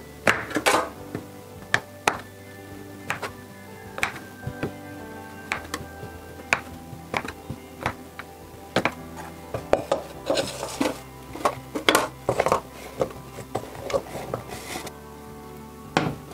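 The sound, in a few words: soap cut roughly into pieces with a cutter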